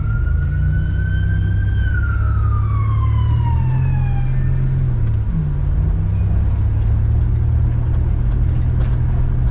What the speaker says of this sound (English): Oh, here comes an ambulance.